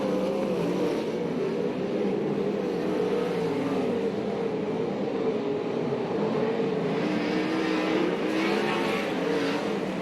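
USAC/CRA sprint cars lapping the track at Alger, Washington, a dense continuous engine drone from several cars blending together at a steady distance, with faint rising whines as cars pass.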